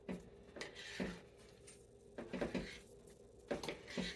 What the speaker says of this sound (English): I'm actually stirring it up a bit and checking on the rice as well.